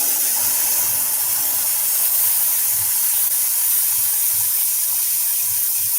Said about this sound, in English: I'm going to use the airbrush here, guys.